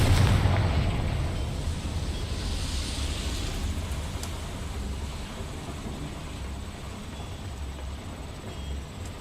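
Confringo fire spell explosion in Hogwarts Legacy, in a mine near a boiler: a sharp boom up front that fades into a long rumbling, crackling decay.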